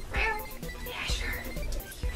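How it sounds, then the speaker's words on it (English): A cat meows several times in a busy indoor room, the calls fairly close and mixed with people talking and handling noise throughout. "Look at the cat."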